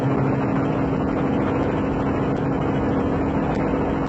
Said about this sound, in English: The sound of a free revving V8 inside the cab is awesome